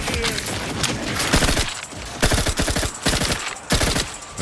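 Rapid automatic gunfire from a video game, The Outer Worlds 2, rattles in loud repeated bursts with short pauses between volleys, continuing throughout.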